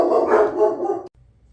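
Several puppies bark and yip together in a lively, fairly loud burst that stops abruptly, leaving near silence.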